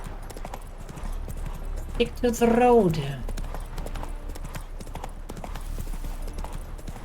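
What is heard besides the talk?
horse hooves clip-clopping, video game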